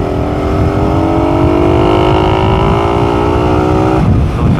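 A motorcycle engine without a racing exhaust revs steadily with a rising pitch for several seconds, loud and close, then drops off abruptly at the end.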